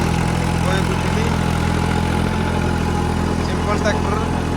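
A simple non-turbo tractor pulling a super seeder through crop stubble gives a steady, loud, droning engine note with no rpm drop, close by, while someone talks over it.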